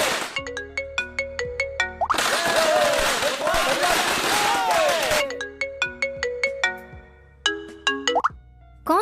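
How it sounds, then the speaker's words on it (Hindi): A mobile phone rings with an incoming call, a bright repeating melodic tone in quick plucked pulses, loud and close, broken in the middle by a dense burst of noisy chatter before the ringing resumes. "इतनी देर से तुम्हें फोन कर रहा है, बात कर लो ना।"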